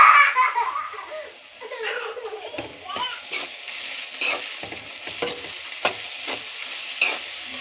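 Cabbage curry with chili powder cooks in a pan, giving a bright, busy sizzle with repeated stirring clatter near the mic, while a voice and some laughter come through at the start.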